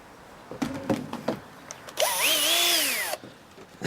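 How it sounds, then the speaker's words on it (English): A power drill bores into wood while building a ramp for RC cars. A few short clicks and taps come first, then a single loud, close whine of about a second rises and falls in pitch before cutting off. "Now we're going to do the drilling."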